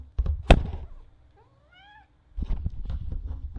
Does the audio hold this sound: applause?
no